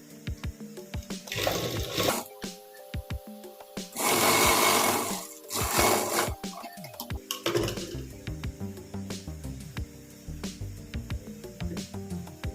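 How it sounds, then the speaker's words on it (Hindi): A sewing machine stitches a salwar belt in several loud bursts of rapid mechanical whirring, separated by short pauses and handling clicks. "अब इस साइड भी हम ऐसे ही सिलाई लगा लेंगे।"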